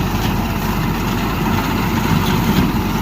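A tractor engine runs steadily in a wheat field during harvest in Azad Kashmir, a loud, continuous low rumble with no breaks or talk.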